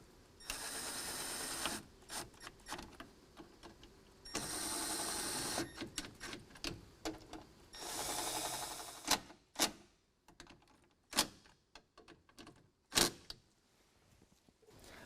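Ratchet tightening a fog light bolt with a 7mm socket on a 2019 Ram 1500: bursts of rapid clicking, then slower individual clicks, close and crisp.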